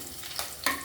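Green chilies frying in hot oil for Telangana-style bagara rice, a steady soft sizzle with two scraping stirs of a spoon, close and moderately quiet, no voices.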